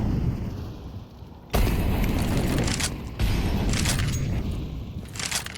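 Grenade explosions in Counter-Strike 2 on the Dust2 map: two loud, sudden booms about two seconds apart, each followed by a rumbling hiss that fades slowly.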